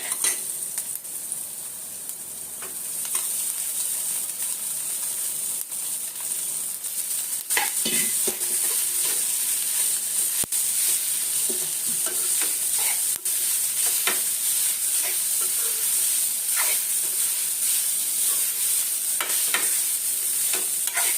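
Tomatoes and turmeric sizzling in hot oil for sambhar, a bright continuous hiss with repeated stirring and scraping strokes, close and loud with no talk over it.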